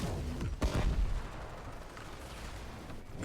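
An explosion goes off in the video game Warframe, a sudden loud burst with heavy low rumble followed by a decaying crackle under continuing game noise.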